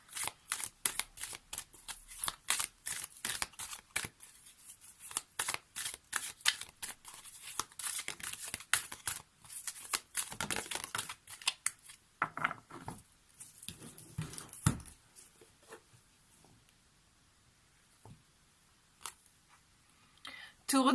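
An oracle card deck is shuffled by hand in quick, dense riffling flurries, close and crisp, trailing off into sparser card taps and handling sounds near the end.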